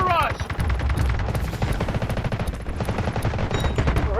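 Rapid gunfire and explosions of an artillery barrage in the shooter Delta Force form a dense, continuous fusillade of loud cracks and booms, with voices briefly heard under the din.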